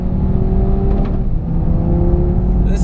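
Audi TT RS Coupe on a flat-out race track lap, its engine droning loud and close from inside the car with a steady whirring tone and slight shifts in pitch as it pulls.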